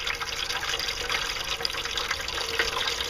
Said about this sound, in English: And it's just washing away. Washes into a catch pan here.